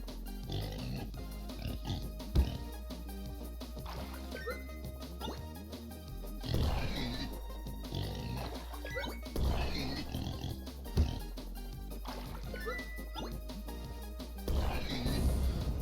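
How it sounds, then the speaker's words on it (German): Repeated grunts and snorts from the pig king, a boss in the Turnip Boy video game, mixed with game music and crashing effects, steady and fairly loud throughout. "Hinter dieser Tür wartet ein gefährliches Schwein."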